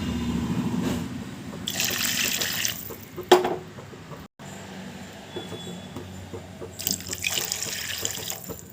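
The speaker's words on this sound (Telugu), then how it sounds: "మూడు మూడు కప్పులు వాటర్ పోసుకున్నాము" Water pours from a cup into a pan for upma in two separate splashing bursts, with quieter kitchen sounds between them.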